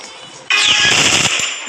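A burst of rapid automatic gunfire in the Free Fire video game, loud and close, with dense rattling shots that start suddenly and run for over a second before tailing off.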